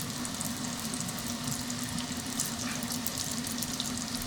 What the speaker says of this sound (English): carefully place your spring rolls into the oil